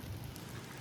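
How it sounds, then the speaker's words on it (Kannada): Heavy rain comes down in a steady, dense hiss, faint and unbroken across a brief stretch, with a low rumble underneath. "ಮಳೆ ಬಂತು, ಅಯ್ಯೋ ಅಯ್ಯೋ ಅಯ್ಯೋ ಜೋರು ಬಂತು ಮಳೆ"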